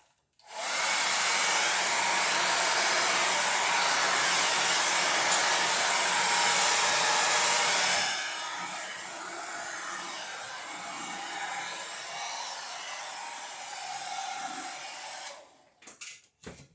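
A hair dryer blows steadily over acrylic paint poured on a ceramic tile, a loud continuous whooshing roar that drops to a slightly softer tone about halfway through before switching off near the end.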